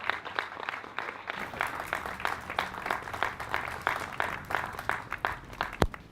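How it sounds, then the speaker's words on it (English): An audience at a Malden town reading of Revolutionary War-era instructions gives a round of applause, steady moderate clapping from many hands that lasts a few seconds. "big round of applause for Tom Coots"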